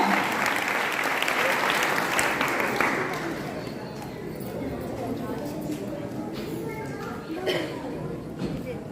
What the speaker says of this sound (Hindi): सभी लोग तालियां बजाइए छोटे छोटे बच्चों के लिए जो गोपाल गार्डन के हैं